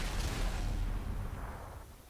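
A deep, rumbling boom from the E-50 tank's 105mm gun in World of Tanks, with a low, heavy blast tail that slowly fades over a couple of seconds.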